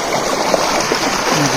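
Water gushing steadily out of a field drain pipe, a continuous loud rushing flow filling the whole stretch with no break.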